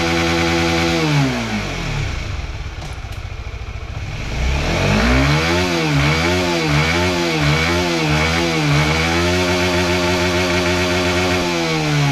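A Honda CBR 150R sport motorcycle with a 150cc engine revving hard, loud and close, its pitch climbing and dropping in repeated throttle sweeps with a buzzing, high-revving whine.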